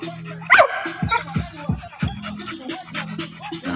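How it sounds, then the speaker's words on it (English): A puppy from a bulldog-type litter yips and barks in short, sharp bursts, close and fairly loud, with panting and whimpering between the barks. "It's a pup off of Dirty and Secret"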